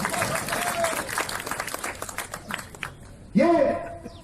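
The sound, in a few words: crowd applause at political rally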